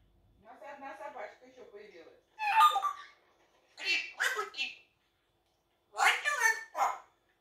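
A person imitates a dog barking for a child, producing several short, close vocal bursts separated by pauses.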